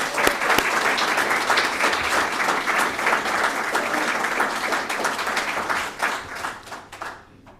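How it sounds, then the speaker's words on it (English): A large audience applauds the Bulldog Hall of Fame class of 2024 at a media conference, a dense, steady wash of clapping that holds strong before thinning and fading out at the end. "If we can have one more round of applause for the entire class"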